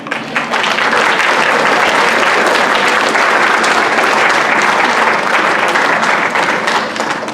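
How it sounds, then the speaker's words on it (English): A school band exhibition audience gives sustained, dense applause that swells quickly and holds steady at full strength, a broad wash of many hands clapping together. "Students, why don't you give them a round of applause?"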